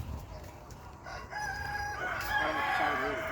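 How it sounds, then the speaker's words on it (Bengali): A rooster crows among hybrid chickens in a two-storey poultry farm shed, one rising crow heard clearly over a low hum of clucking hens and barn noise. "এই যে দেখেন এই মুরগিগুলো কিন্তু সবগুলো হাইব্রিড মুরগি"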